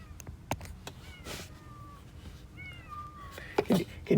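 A cat meows outside a basement window, several short rising cries spread across the clip, fairly close, over a quiet indoor background with a few soft knocks.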